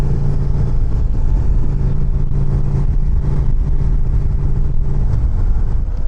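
Harley-Davidson CVO ST motorcycle engine running loud and close, a steady deep rumbling drone with a continuous low throb that barely changes throughout and has no speech over it.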